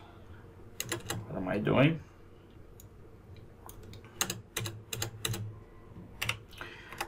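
Computer keyboard typing while writing code: bursts of quick, close key clicks in uneven clusters, with a short spoken phrase partway through.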